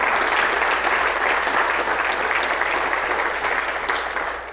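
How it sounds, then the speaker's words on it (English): An audience at an athlete awards keynote breaks into sustained, full applause for the parents and families, a dense crowd clapping that holds steady for several seconds and then begins to fade. "I would ask that everybody give the parents and the family members here a round of applause"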